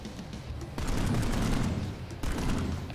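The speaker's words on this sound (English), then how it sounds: "That's the only gun I have available. Let's shoot it." Gunfire in the game Planetside 2 comes as two sustained bursts of rapid automatic shots, moderately loud with a short pause between them.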